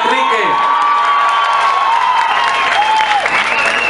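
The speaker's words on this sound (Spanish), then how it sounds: "Fuerte el aplauso para Enrique." A large crowd at a political campaign closing rally in Mexico applauds loudly and continuously, with cheers and whistles rising over the dense clapping, while an amplified voice carries through.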